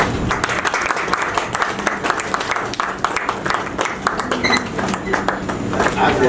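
A crowd claps steadily with scattered sharp individual claps, while people talk over the applause throughout, at a Women's Day guest ceremony in India.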